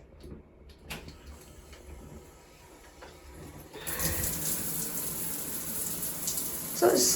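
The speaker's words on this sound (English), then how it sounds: "So it's decent pressure on the shower." A hotel bathroom shower at the Ibis Styles George Square in Glasgow is switched on after a few clicks and handling noises, then water sprays in a steady, close, hissing rush that continues to the end.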